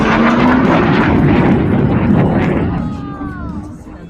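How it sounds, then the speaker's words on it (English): Loud, steady roar of an airshow jet flying upside down, compared with the Douglas F-4 Phantom, filling the whole clip and easing off toward the end as a faint whine rises, with a voice talking over it. "holding the airplane upside down momentarily"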